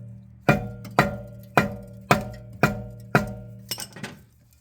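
A tool repeatedly taps the brake caliper on a Jaguar XF, with seven evenly spaced metallic clinks ringing briefly, close and clear, with no voices.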